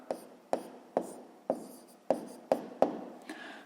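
Chalk or pen strokes while a math solution for a sixth-grade exercise is written out, seven short sharp taps at a steady pace, close and alone with no talk.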